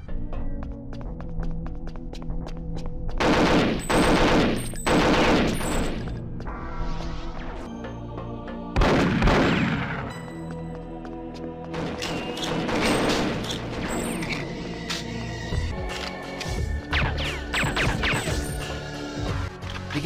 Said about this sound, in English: All of the weapons have unique and beefy firing sounds, and the reloading sounds amazing as well.